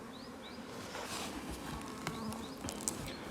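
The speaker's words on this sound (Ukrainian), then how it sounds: "Так, і бджілки вилазять." Honeybees buzz softly and continuously close by as they crawl out of a log hive during the first spring flight, with faint chirps of birds in the background.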